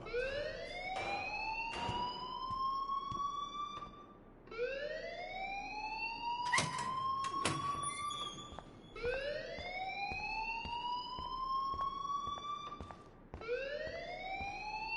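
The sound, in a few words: alarm ringing in Life is Strange video game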